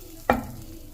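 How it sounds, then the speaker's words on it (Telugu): Hot tempering of curry leaves and asafoetida poured into lemon pulihora mix, giving one sudden loud sizzle that fades quickly into a soft hiss. "ఇప్పుడు ఈ తాలింపు ఇందులో వేసుకుందాం,"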